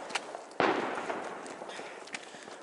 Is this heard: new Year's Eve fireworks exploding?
yes